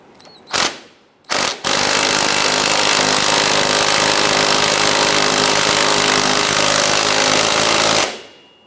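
A power tool, likely an impact wrench, tightens the rear shock absorber bolt on a 1997–2006 Jeep Wrangler: two short bursts, then a loud sustained rattling whir lasting several seconds before stopping.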